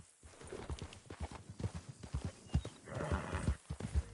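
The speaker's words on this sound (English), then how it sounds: "Oh, hey, sir, could you help me? My horse ran away." Hooves clop in a steady trotting rhythm, and a horse whinnies partway through, all fairly close and moderately loud with no talking, in the video game Red Dead Redemption 2.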